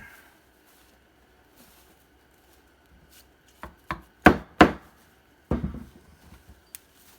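A knife cuts notches into a piece of homemade Christmas wreath material, producing a handful of sharp, close chopping knocks in a short cluster amid otherwise quiet surroundings.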